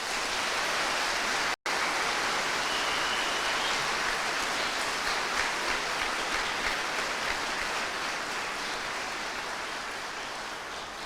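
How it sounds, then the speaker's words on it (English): Sustained loud applause from a large crowd at an Army basic training graduation at Fort Sill, steady and dense throughout with a brief dropout near the start. "please join me in a round of applause for our newest American soldiers."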